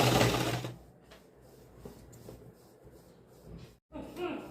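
A sewing machine stitching a semi patiyala salwar runs in a short loud burst at the start, then a quieter stretch of faint ticks and handling noise, with another brief run at the end.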